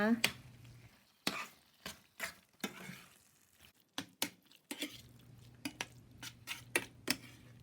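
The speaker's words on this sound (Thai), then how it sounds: "ใส่หมูลงไปค่ะ แล้วก็ผัดหมูกับเครื่องแกงให้เข้ากันนะคะ" Pork stir-fried with Thai red curry paste in a pan for red curry with pumpkin: sharp, irregular clanks and scrapes of a utensil against the pan over a faint low sizzle, close by, without talking.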